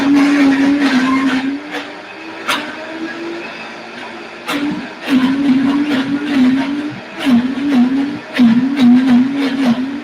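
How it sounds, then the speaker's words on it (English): A powerful blender whirs through a batch of coconut yogurt with a loud, steady motor drone that rises and dips as it churns. Clicks and knocks come through over the drone. "Turning on my blender here"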